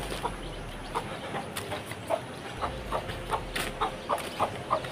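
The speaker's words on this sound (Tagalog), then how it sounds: "May manok pa sila." Chickens clucking repeatedly in short, irregular bursts over a steady outdoor background hum, moderately close, with no talking.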